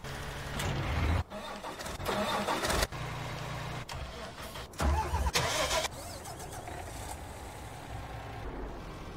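Truck engine in the Farming Simulator 19 video game, a mid-pitched motor revving and idling with abrupt surges and cutoffs as it strains to get unstuck.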